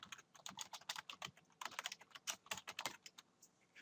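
Fingers type on a computer keyboard, a quiet, close rapid patter of key clicks in uneven bursts with a brief pause midway.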